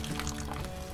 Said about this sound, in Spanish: vamos a hacer una pasta de ceniza con un poco de agua